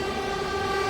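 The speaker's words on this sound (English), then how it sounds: "I'm so sorry, the train is so loud." An old train runs loudly past, producing a continuous rumbling roar with a sustained high screeching tone, close and steady throughout.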